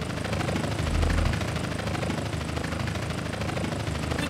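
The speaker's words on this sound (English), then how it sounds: "This is helicopter support." A helicopter's heavy rotor thrum and engine roar in the video game GTA San Andreas The Definitive Edition, loud and continuous, swelling slightly early on, with no voices over it.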